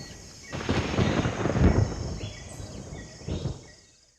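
Night thunderstorm by the Omo River: a rolling thunder rumble swells and fades over a few seconds, followed by a shorter second boom, with faint insect chirps in the background.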